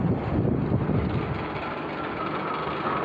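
A steady rumbling car of the Babbacombe Cliff Railway runs continuously with a broad mechanical drone, close and fairly loud, with no talking.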